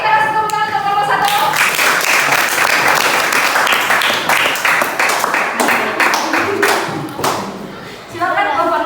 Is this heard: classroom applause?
yes